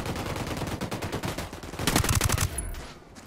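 Gunfire in the tactical shooter Ghost Recon Wildlands: a dense run of sharp shots builds to a louder burst near the end, then trails off into rain-like background noise, with no voices.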